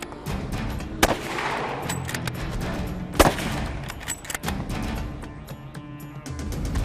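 Rifle shots fired while hunting outdoors, two sharp loud cracks a couple of seconds apart with a third smaller report, over a faint background hiss.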